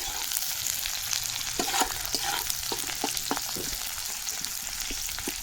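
Onions fry in a pan for mutton curry, crackling and sizzling steadily while a spoon clinks and scrapes against the pan in scattered strokes.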